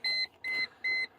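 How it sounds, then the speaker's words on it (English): A Mercedes C140 sounds its door-open warning, three evenly spaced electronic beeps, steady and moderately quiet. "sorry for the beeping"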